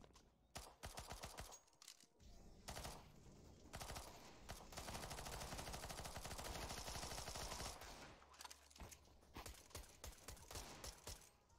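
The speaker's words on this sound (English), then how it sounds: "Why are you shooting at teammates?" A PP-Bizon submachine gun fires on teammates on Dust 2 in Counter-Strike, rapid sustained bursts of automatic gunfire with brief pauses between strings of shots, fairly close and dominant.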